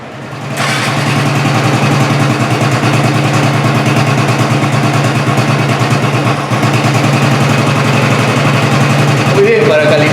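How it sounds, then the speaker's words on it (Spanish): A motorcycle undergoing maintenance starts with a sudden burst and then idles steadily at close range, a constant, even engine chug running throughout. "Vamos a encender la motocicleta."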